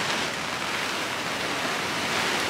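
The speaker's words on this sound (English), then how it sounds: "Here comes the thick rain." Heavy rain pours down steadily in changeable coastal weather, a dense, continuous broadband hiss at constant loudness with no talk over it.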